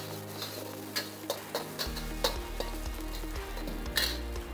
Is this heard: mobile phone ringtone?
no